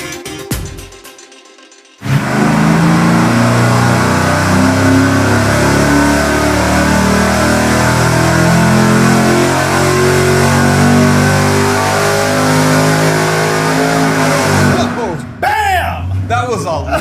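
A stock engine fitted with a supercharger and a 4.25-inch pulley revs hard on a dyno, a loud, sustained roar holding at full load for about thirteen seconds before dropping away, with voices around it.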